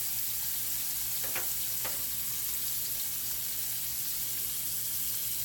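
Salmon fillet, a thick piece, frying in a skillet on medium-high heat, giving a steady soft sizzle with two brief sharp clicks near the start.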